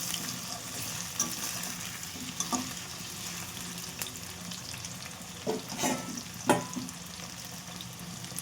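Puffed rice frying and being stirred in a pan for Bengali puimichuri, a steady close sizzle with scraping stirs and a few sharper clatters of the spoon, no talking.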